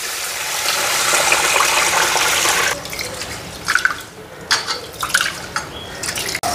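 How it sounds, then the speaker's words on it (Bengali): Rice is rinsed in water, beginning with a few seconds of steady running, pouring water, then breaking into close, irregular splashes, swishes and drips as the grains are stirred. "এদিকে চাল নিয়ে নিলাম, চালটা ধুইয়া নি,"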